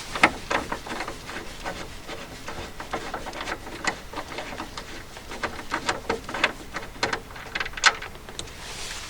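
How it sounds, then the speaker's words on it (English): Metal tool clicks and scrapes against bolts on the rear strut mount of a car with drum brakes, worked from inside the boot, a steady run of close, sharp ratcheting and rubbing taps with no talk. "So next I'm removing 2 of these bolts completely."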